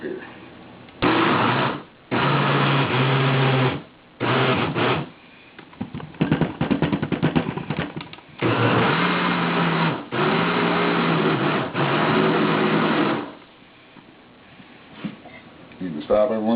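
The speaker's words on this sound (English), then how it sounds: "Blender stand, and you have to excuse the noise." A countertop blender runs in several bursts, whirring loudly through bacon, onion, garlic and beans with short pauses between pulses, and a voice speaks in the gaps.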